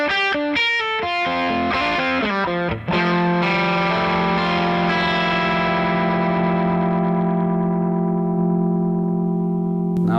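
Electric guitar played through The PLUS overdrive/boost pedal: a quick run of driven picked notes leads into a big sustained chord that rings out long and loud, slowly decaying, with no talking.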